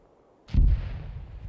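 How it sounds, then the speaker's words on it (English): Artillery shells landing in the combat game Arma 3, a single heavy, low boom hitting after a quiet moment and fading into a long rumbling tail. "Oh, hey, artillery landed."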